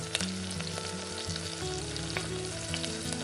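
Onions frying in a pan for paneer curry, a steady close sizzle with crackling pops and occasional stirring, no voices.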